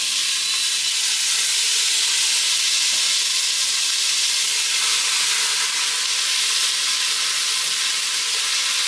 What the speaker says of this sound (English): We're gonna get the beef in here and get a sear on. If you don't hear that sound, take it out.